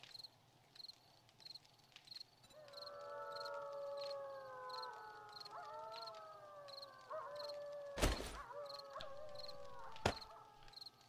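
Dogs howling in the 7 Days to Die video game: several long, overlapping, wavering howls that rise and fall from about a quarter of the way in, over a steady chirping insect background, with two sharp bangs near the end.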